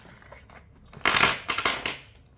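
Small loose change rattles and clinks as the coins are dropped and poured together in several quick bursts, close and fairly loud, with no talking.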